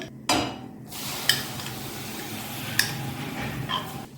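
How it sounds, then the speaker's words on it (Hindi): Amla paste goes into a lightly warmed pan and is stirred, giving a soft steady sizzle and scraping with a few sharp utensil clinks against the pan. "उसके बाद हमने जो पेस्ट बनाया था इसे डाल देंगे इसमें।"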